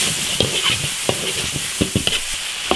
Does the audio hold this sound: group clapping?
no